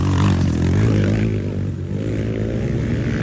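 A Yamaha YZ250F dirt bike being ridden, its engine a loud, steady buzzing drone with a strong low harmonic hum held throughout, up close and unbroken by talk.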